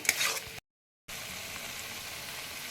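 Spice masala frying in oil for doi pabda fish curry, a steady close sizzle with a brief stirring scrape at the start, broken by a short moment of silence before the sizzling resumes.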